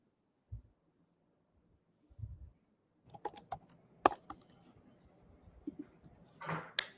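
Computer keyboard typing during an online cooking session: scattered clicks at first, then a steady run of key presses at moderate distance, with no talk.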